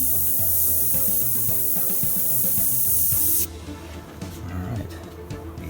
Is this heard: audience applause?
no